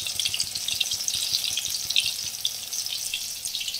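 Kolkata-style mutton cutlet fries slowly in hot oil in a pan, giving a steady, bright crackling sizzle with dense small pops throughout, close and continuous, with no voices.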